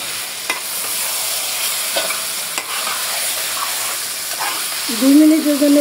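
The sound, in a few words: beef frying and being stirred in oil with onions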